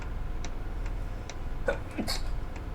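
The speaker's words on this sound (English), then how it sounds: "Excuse me, dear me, sneezing like I don't know what." A person sneezes once sharply, close to the microphone, over a steady bus engine hum and faint regular ticking.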